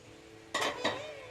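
Soaked chickpeas are tipped into a pressure cooker, two quick rattling clatters of wet legumes against metal after a quiet pause, then a fading rustle.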